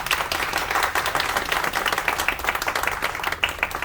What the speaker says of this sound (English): Round of applause for John, guys.